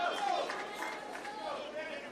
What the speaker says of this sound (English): Hear that crowd trying to pick up Cederquist and Newell here.